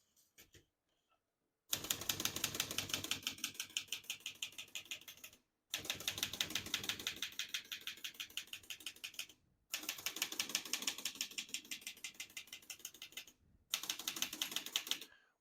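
Rapid keystrokes on a 1964 Olivetti Lettera 32 portable typewriter clatter in four loud, close bursts of steady rhythmic typing, separated by brief pauses, with no voices.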